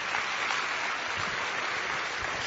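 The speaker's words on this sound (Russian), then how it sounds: "можно аплодисменты Богу" Audience applause in a church, a dense steady wash of clapping from a congregation praising God, continuous and fairly loud throughout with no talking.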